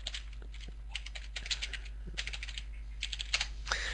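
Rapid typing on a computer keyboard, close and fairly quiet, irregular bursts of clicky keystrokes over a steady low electrical hum.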